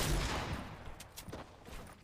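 Gunfire in GTA NoPixel roleplay: a burst of rapid shots opens loud and close, then fades into a few scattered cracks and thuds, with no talking.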